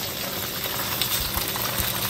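Ginger slices sizzle in hot oil in a pan, giving a steady, close hiss and crackle of frying with no talking over it.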